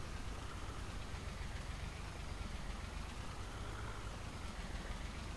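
A tractor engine in a multiplayer farming video game runs at a steady low drone, a continuous mid-level hum with no talking over it.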